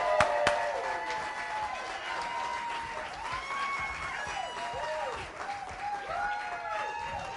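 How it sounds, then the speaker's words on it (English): Theatre crowd applauds a stand-up comic being introduced at a student comedy showcase at the Stage Door Repertory Theatre, with sustained clapping mixed with warbling whistles and a few cheers. "Big round of applause for Art Valenzuela!"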